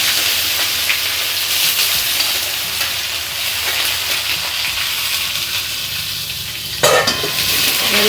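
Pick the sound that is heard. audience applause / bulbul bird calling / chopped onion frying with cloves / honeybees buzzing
chopped onion frying with cloves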